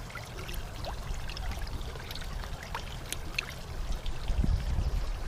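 Liquid water treatment tipped into a garden fish pond, a soft close pour and trickle over steady running-water background, swelling slightly louder near the end.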